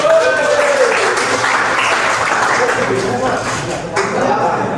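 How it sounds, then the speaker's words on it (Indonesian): Applause from a classroom group cheering the winning team at the top of the podium after a sociology lesson game, a steady wash of clapping with voices talking over it throughout. "Tepuk tangan buat tim bro dulu"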